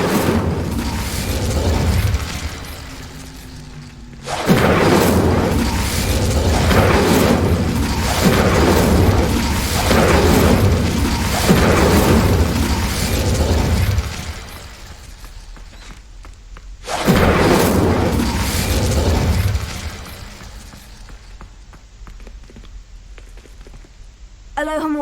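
An Incendio fire spell is cast repeatedly in Hogwarts Legacy, each cast a loud whooshing burst followed by sustained roaring flame and thuds, with a brief lull between bursts.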